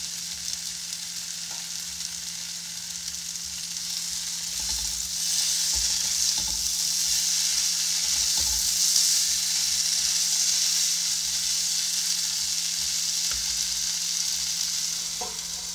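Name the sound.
pumpkin leaves sizzling as they cook in the pan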